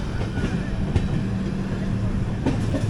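The 12790 Mangalore-Kacheguda Express rolls along the tracks, heard from inside an AC 3-tier coach as a steady, even rumble. Faint wheel clicks rise above it now and then.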